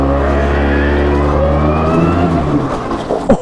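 A street-legal go-kart bought on eBay drifts over fallen leaves, its small engine revving loud and close with strong steady harmonics, then wavering as the kart slides, ending in a short sharp scrape.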